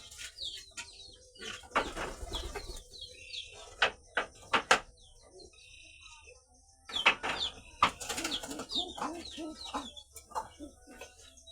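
Rajshahi Giribaj flying pigeons are kept at close range. Their soft intermittent calls and low throaty coos come in scattered bursts over a quiet background, with brief clicks and rustles between them.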